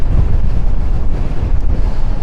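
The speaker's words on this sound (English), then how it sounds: "At the moment we have got gusts of up to about 65 miles an hour" Storm wind gusting at up to about 65 miles an hour on the Blackpool seafront batters the microphone in a loud, close, rumbling roar that surges and dips without pause, with no voices.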